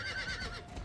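Horse neighing in the video game Star Stable Online, a short whinny with quavering tones, loud and close, heard alone without talk.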